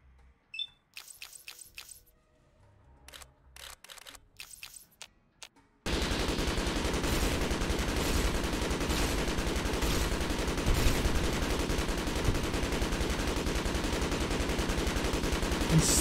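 Someone shooting a gun: a few scattered single shots at first, then a long, sustained burst of rapid automatic fire that stays loud and dense to the end.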